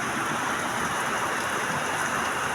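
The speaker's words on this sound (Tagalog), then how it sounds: "Yan, ang ulan, napakalakas." Heavy midday rain pours down in a steady, dense hiss that stays even and loud throughout, with no voices.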